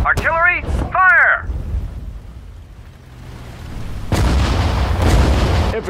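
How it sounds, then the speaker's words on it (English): Artillery fires in the World War II strategy game Sudden Strike 4, in the Allied campaign's Operation Plunder mission. A voice shouts a command first, then a deep, heavy boom rolls in and rumbles on to the end. "Artillery, fire!"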